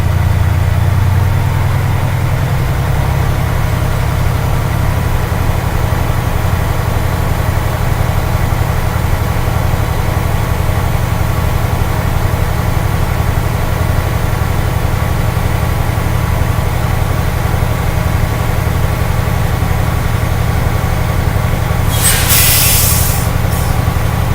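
Truck engine held at high idle to rebuild air brake system pressure, a loud, steady, low drone running throughout, with a brief hiss of air near the end.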